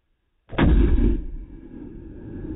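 A rifle fires a single loud, close gunshot during a 2014 elk hunt in Idaho. A long rumbling echo rolls out across open terrain after the shot.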